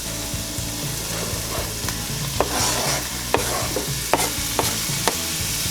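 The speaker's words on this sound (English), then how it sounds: "they are sizzling, so we're going to go ahead and add our onions in" Diced onion and bell pepper sizzle in a hot pan with a continuous bright frying hiss, while a utensil scrapes and taps against the pan every second or so as the vegetables are stirred.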